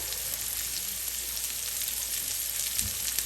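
Finely chopped bottle gourd peel frying in a hot pan, a steady, fairly loud sizzle that holds evenly throughout with no talking.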